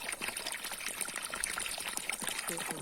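Water running from a tap into a swimming pool, a steady trickling and splashing pour with faint background sounds, fairly quiet.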